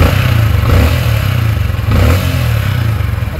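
A Sniper 155 motorcycle engine revs steadily up close after a manual cam chain tensioner adjustment, a loud, even buzzing drone with a slight swell midway and no talking.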